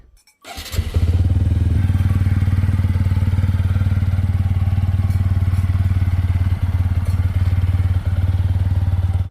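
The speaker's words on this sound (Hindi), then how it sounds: "कोल्ड स्टार्ट करते हैं इस हॉट डे में।" A motorcycle cold-started on a hot day while parked on a roadside, firing after a brief silence and settling into a loud, steady, close idle with a few small dips.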